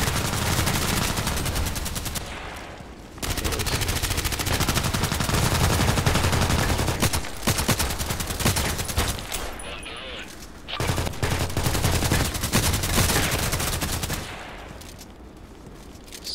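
Bursts of automatic gunfire in the online shooter Contract Wars, loud rapid volleys in several clusters separated by brief lulls, heard without speech.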